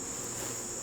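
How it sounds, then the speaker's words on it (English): Nurse honey bees buzzing at an open hive in August, a brief, steady, close drone with no pauses. "I've got a couple nurse bees on me."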